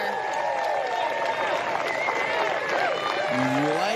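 A golf crowd gathered behind a hole during the final round of the FM Championship applauds and cheers in a continuous, lively wash, with a voice talking over it near the end.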